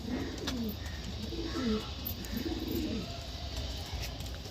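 Madras pigeons cooing in a loft, several low repeated coos overlapping at close range over steady background noise, with no talking.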